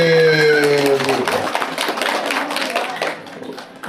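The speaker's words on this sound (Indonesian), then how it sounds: "tepuk tangan buat Melika Syakib." An audience at a children's storytelling competition in Lumajang claps in a scattered patter, the applause running under a speaker's voice announcing over a loudspeaker.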